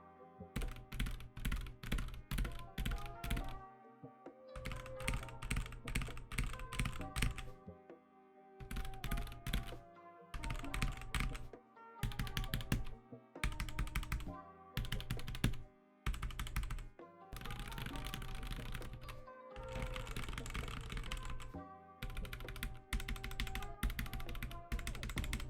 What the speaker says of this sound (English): And now here's the sound test you've been waiting for.